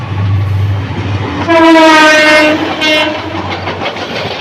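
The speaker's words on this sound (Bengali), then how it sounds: "দেখতে পাচ্ছেন বাংলাদেশের ট্রেন আসছে, এই ট্রেন যাবে।" A Bangladeshi train rumbles past with a loud, sustained horn blast in the middle, carriage noise rolling on before and after.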